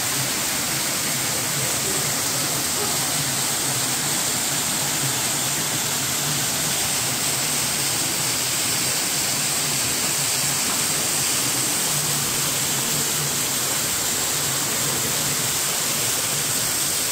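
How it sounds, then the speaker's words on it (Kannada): Underground waterfall inside a cave at Ermayi Falls near Ujire. Water roars as a steady, dense hiss that fills the whole stretch without a break, with no voices. "ಆಗ ಅಂಡರ್ಗ್ರೌಂಡ್ ಫಾಲ್ಸ್ ಇದ್ದದ್ದು ಇಲ್ಲಿ."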